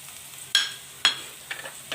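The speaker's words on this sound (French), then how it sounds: "je la fais chauffer et je mets 3 gousses d'ail" Three garlic cloves dropping into hot oil in a frying pan, giving sharp sizzling bursts at about half-second intervals, then softer crackles as they settle, close and fairly quiet with no talking.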